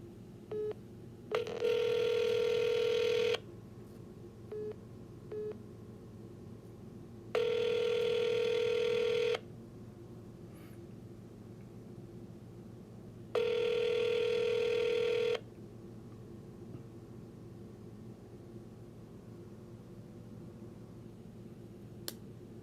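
A transferred telephone call plays out as faint dialing clicks, then three long electronic ring bursts separated by even pauses of about four seconds over a quiet line hiss, no one speaking.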